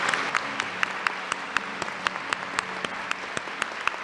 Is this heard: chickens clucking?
no